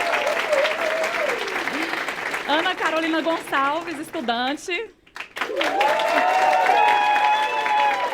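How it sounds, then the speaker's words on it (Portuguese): Studio audience applause during a televised debate on school bullying, clapping running throughout under a presenter's voice announcing a guest's name, with a brief dip before the applause swells again. "palmas para ela também"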